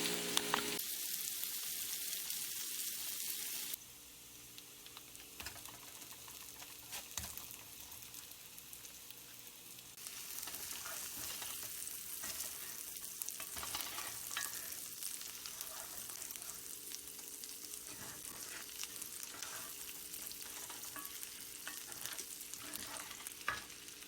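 Onions frying in rendered pork fat in a skillet, a steady close sizzle that crackles and pops throughout, with occasional stirring scrapes and no voices.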